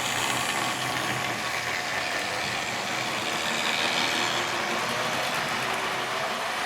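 Three model locomotives, including a Scots Flyer, run clockwise around a layout, making a steady, dense mechanical clatter and whirring rumble that continues evenly throughout.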